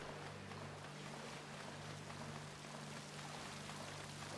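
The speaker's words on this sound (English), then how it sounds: "Underneath the waterfall?" Waterfall in Uncharted: Drake's Fortune, a steady broadband rushing roar that continues unbroken throughout, fairly quiet overall, with no speech over it.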